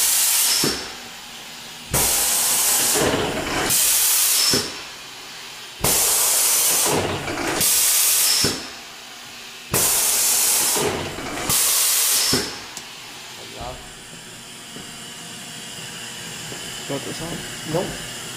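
An automatic press cycles at a steady three-second interval, each stroke releasing a loud burst of air hiss that stops abruptly, repeating about six times before the machine falls quiet with faint clicks and room noise.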